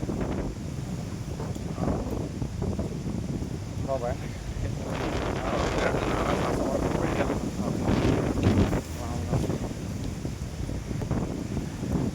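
Powerful wind blasts and rumbles against the microphone at a big cave by the Kotebetta Shiva temple, gusting unevenly for several seconds while a person talks intermittently beneath the roar.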